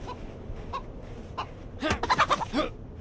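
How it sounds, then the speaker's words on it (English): A video game chicken gives a few soft clucks, then a louder burst of rapid clucking and squawks up close over a low background rumble. "See if we can find this friendly chicken."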